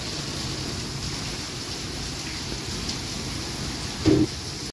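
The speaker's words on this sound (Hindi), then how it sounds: "मस्त वाली बारिश आई है।" Steady hiss of heavy rain falling around a house in Jaipur during hot weather, a constant wash of noise with a brief louder thump near the end.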